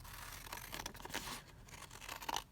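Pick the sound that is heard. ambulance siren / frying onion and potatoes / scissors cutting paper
scissors cutting paper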